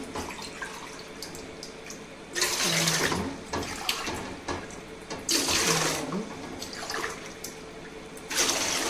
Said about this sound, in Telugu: నాలుగు గ్లాసులు రైస్కి 6 గ్లాసులు వాటర్ పోసుకోండి